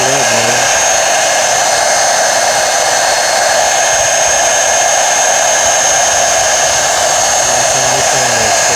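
A heat gun blows a steady, loud hot-air roar while warming a 3M sole protector onto a luxury shoe sole, holding constant with no talking.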